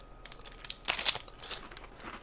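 A cake packet is torn open, giving crisp crinkling and tearing bursts of plastic wrapper, loudest in a sharp rustle near the middle, up close and quiet with no talking.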